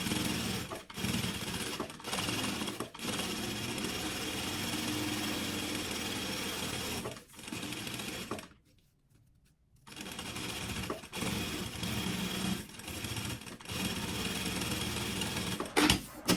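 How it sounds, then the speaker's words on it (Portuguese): A sewing machine runs in long steady bursts stitching lining material for a sublimated maternity kit, a close, even mechanical whir broken by brief pauses and one longer stop midway. "Aqui, faço a costura, prendendo todo o material."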